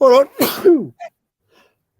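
A single sharp sneeze from a person during a sports podcast about the Philadelphia Eagles, loud and close, followed by a brief bit of speech and then near silence.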